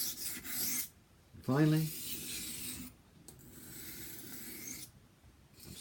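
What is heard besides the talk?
kitchen knife being sharpened on a 220 grit whetstone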